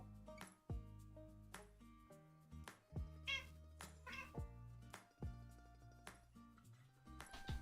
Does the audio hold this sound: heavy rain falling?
no